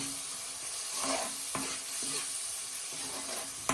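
Konkani onion-coconut masala paste with turmeric and kokum is stirred in a pan, with a steady sizzle under repeated close spoon scrapes and a few sharper clinks against the pan.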